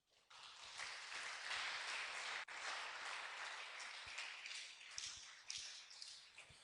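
A church congregation at a prayer seminar applauds in a sustained burst of clapping, swelling quickly, holding steady, then thinning into scattered claps, with a few louder taps near the end.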